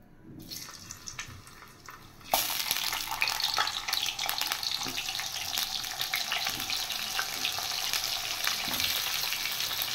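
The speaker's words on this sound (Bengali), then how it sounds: "এবার আমি কড়াই বসিয়ে দিয়েছি, তেল দিয়ে দিয়েছি আর আমি এবার করলাগুলো একটু ফ্রাই করে নেব" Bitter gourd (karela) dropped into hot oil in a wok sets off a sudden loud, crackling sizzle after a quiet start, then keeps frying steadily and evenly with no talking.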